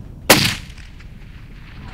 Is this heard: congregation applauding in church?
no